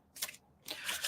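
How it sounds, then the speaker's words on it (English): Tarot cards being shuffled at close range, two quick papery riffling bursts separated by a short pause, with no voices. "While I'm shuffling cards"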